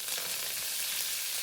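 Coriander with mustard seeds and sesame in hot oil for potato and semolina vada, a dense, even sizzle close up with no voices.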